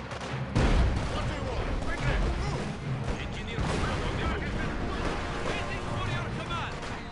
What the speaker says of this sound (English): Detonate the explosives.